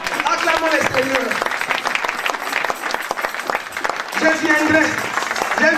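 A church congregation applauding, sustained loud clapping from a crowd with a voice speaking and calling out over it.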